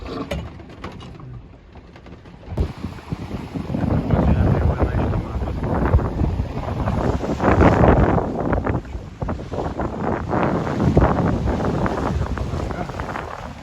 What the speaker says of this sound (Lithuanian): Atsirado biškį daugiau vėjo, pasikeitė kryptis.